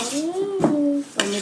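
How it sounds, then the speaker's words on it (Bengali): Capsicum and carrot go into a pot of masoor dal on the stove, making two short clattering drops in quick succession while someone talks over them. "প্রথমে দিয়ে দেব ক্যাপসিকাম, গাজর,"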